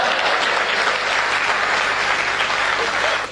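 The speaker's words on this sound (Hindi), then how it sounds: "नहीं लग रहा तो एक बार तालियां ठोक के बताइए।" Dense, loud applause from the audience at a Hindi humorous poetry gathering (kavi sammelan), continuous clapping for a few seconds that tapers slightly at the end.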